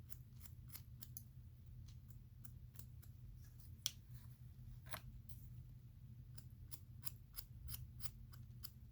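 Scissors snipping short hair during a home haircut, a steady series of crisp, quiet cuts at irregular intervals over a low background hum, close and alone.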